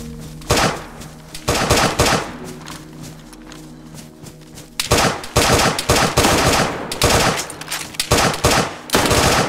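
Gunfire in the survival shooter DayZ, bursts of sharp rapid shots in clustered volleys with brief pauses between them, loud and close, repeating across the whole stretch.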